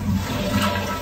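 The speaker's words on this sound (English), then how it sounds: "I didn't hear the toilet flush." A toilet flushes with a continuous, fairly loud rush of swirling water that fills the whole brief moment without a break.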